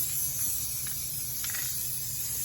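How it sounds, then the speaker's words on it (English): Spray adhesive hisses steadily from an aerosol can onto rug tufting cloth, a continuous close, airy spray with slight pulses running through the whole stretch. "So let's get this sprayed all up real quick."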